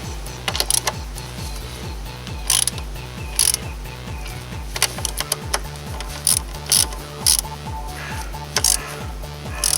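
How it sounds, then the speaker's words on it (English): A ratchet clicks rapidly and continuously at close range while tightening the front fork bolts on an RF900 motorcycle, a steady mechanical ticking with brief louder clacks, and no talk. "you can finally tighten those two bolts"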